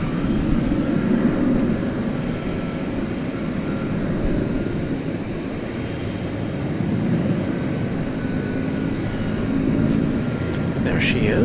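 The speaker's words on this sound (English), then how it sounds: "We'll be on the lookout for the Qantas jetliner, the Dreamliner, the Flying Roo." Continuous broad roar of a Qantas Boeing 787 Dreamliner jetliner at DFW Airport at night, holding steady and fairly loud in the distance over the whole stretch.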